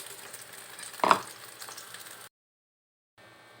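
Ukoy fritters frying in a pan make a steady soft sizzle with a brief louder crackle, then cut off into silence before the hiss returns faintly.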